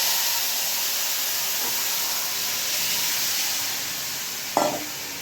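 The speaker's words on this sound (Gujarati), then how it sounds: "હવે આ લસણનો વઘાર બહુ સરસ આવે." Garlic and asafoetida tempering sizzles in hot oil, a steady loud frying hiss with a sharp crackling burst near the end; no voices.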